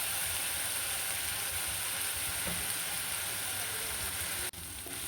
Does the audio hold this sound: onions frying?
yes